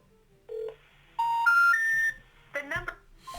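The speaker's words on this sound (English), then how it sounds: "Dialing the second one, or dialing this other number." A telephone number is dialed for absentee-owner prospecting, producing a short series of distinct stepped keypad tones, each held briefly at a rising pitch, followed by a burst of louder mixed beeps and clatter.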